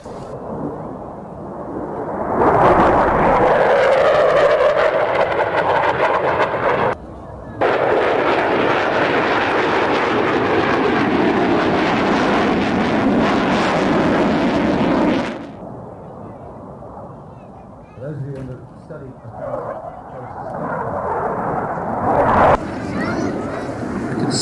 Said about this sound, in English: From the south, ladies and gentlemen, the F4F Phantoms,